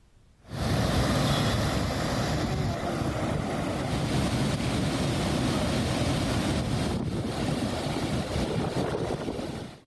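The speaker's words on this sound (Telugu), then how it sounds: "మొత్తం నలభై ఒక్క గేట్ల ద్వారా రెండున్నర లక్షల క్యూసెక్కులకు పైగా నీటిని గోదావరిలోకి వదులుతున్నారు" Floodwater rushes from the opened gates of the Sriram Sagar dam into the Godavari, a loud, unbroken roar that starts abruptly and holds steady throughout, with no voices.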